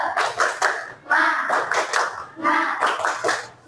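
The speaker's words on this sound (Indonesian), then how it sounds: "Tepuk semangat." Children in an Islamic primary school classroom perform the 'tepuk semangat' rhythmic clapping chant, sharp patterned claps in quick bursts mixed with their chanted voices, separated by short pauses.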